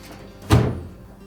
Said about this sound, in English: we can close the door up